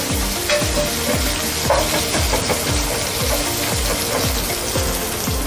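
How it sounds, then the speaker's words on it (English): Beef is stirred and fried in a cooking pot with a loud, dense sizzle, while rapid, evenly repeated scraping strokes of a spoon run through it and no one speaks. "So we are going to come here, stir this."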